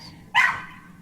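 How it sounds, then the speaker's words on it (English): A neighbor's dog gives a single sharp bark at a moderate distance over a quiet, low background hum. "Those are dogs."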